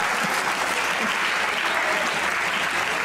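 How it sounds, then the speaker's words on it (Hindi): Dense, steady studio audience applause from a comedy talk show, loud and continuous throughout with a faint crowd murmur beneath. "वाह तालियां होनी चाहिए"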